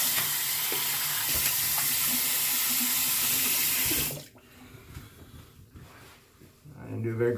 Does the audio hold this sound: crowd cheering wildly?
no